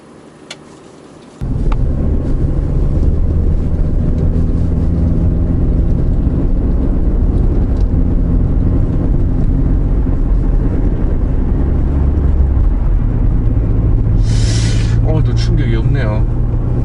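A Chevrolet Colorado pickup pulls away, its engine rising into a steady loud drone with low rumble and road noise, while someone talks over it throughout.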